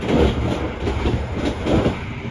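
Passenger train rolling at about 114 km/h through Kutoarjo on the Yogyakarta–Jakarta line, a steady loud rumble with rhythmic wheel clatter throughout and no voices.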